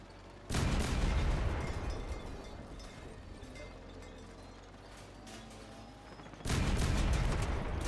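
Sustained gunfire and mechanical weapon noise from armored combat vehicles in the Crossout video game, loud bursts at the start and end framing a steadier rattling middle, with no talking.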